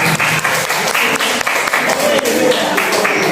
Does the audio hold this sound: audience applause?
yes